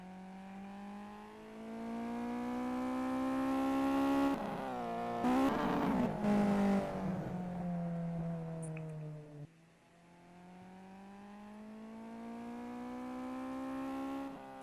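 An Evo car laps a circuit in the Simraceway racing game, its engine a steady, loud drone whose pitch climbs, breaks through rapid gear changes midway, dips sharply, then rises again, with no voices.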